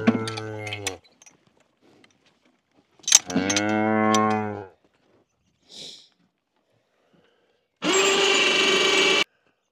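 Cows on a cattle ranch moo in three loud, drawn-out calls, two deep and one higher and harsher, separated by quiet gaps with a faint short sound between.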